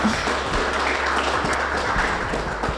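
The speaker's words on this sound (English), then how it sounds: "We can clap for her" Audience at a fintech panel event clapping for a speaker, a continuous patter of hands from a modest indoor crowd over a low hum, steady and moderately loud throughout.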